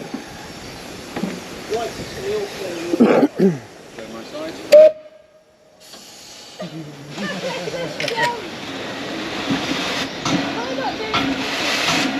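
Steam locomotive whistle on a heritage railway in Wales gives one loud, clear blast amid hissing steam and the rumble of the train, with people talking nearby before and after.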